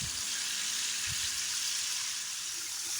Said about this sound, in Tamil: இப்போ நம்ம அடுப்பில் போட்டு பொரிக்கிறோம்.